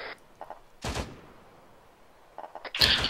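Gunfire in the ArmA 3 military shooter during a combat operation: a few sharp bursts, a loud one near the start and another near the end, with fainter shots between, no talk.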